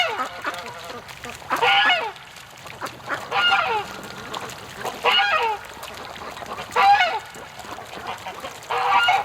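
Female ducks on a winter walk toward a creek quack in repeated loud, nasal bursts, about six calls spaced a second or two apart, close by.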